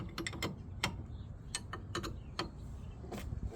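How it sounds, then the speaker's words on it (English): Wrench clicks and metallic ticks while bolts are turned on a Wacker roller engine with a 15/16 and a 1-inch backup wrench; a scattered series of short, close taps and ratchet-like clicks, no talking. "Okay, I have a 15/16 and a 1-inch backup wrench."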